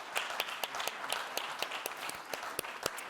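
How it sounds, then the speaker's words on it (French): Audience applause at an award ceremony, individual claps clearly distinct in an irregular, moderately sparse rhythm, fairly close and steady for a few seconds. "On peut l'applaudir."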